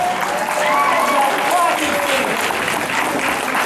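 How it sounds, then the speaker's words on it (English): Applause from a crowd at a fan festival competition, steady and fairly loud throughout, with cheering voices and talk mixed in. "A big round of applause to everybody who competed."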